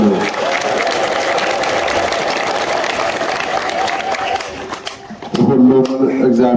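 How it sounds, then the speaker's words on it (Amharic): A crowd ululates and claps loudly at an Ethiopian Orthodox monastery celebration welcoming a Saint Michael tabot, with dense, continuous cheering and clapping that ends in a brief, more tonal burst of voices. "ብዙ ጊዜ እልል በሉ"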